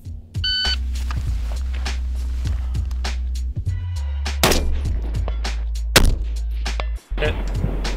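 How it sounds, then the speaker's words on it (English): A .308 rifle fires repeatedly at C-zone IPSC steel targets set between 200 and 600 yards, giving a series of sharp, loud reports spaced a second or so apart over a steady background hum. "So let's shoot at these C-zone IPSCs from 200 to 600 yards."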